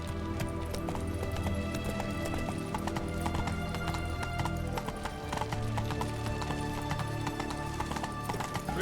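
Roach, Geralt's horse in The Witcher 3: Wild Hunt, gallops with rapid, continuous hoofbeats over layered game music and ambience, steady and close throughout.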